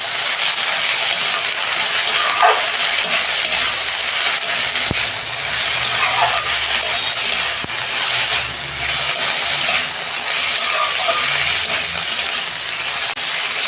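Pumpkin greens stir-fried in a pan, a loud, continuous hissing sizzle with steamy texture throughout, punctuated by a few faint spatula scrapes and clicks, no voices.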